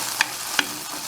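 Kale frying in a pan, a steady sizzle broken by two short stirring scrapes close up, with no voices.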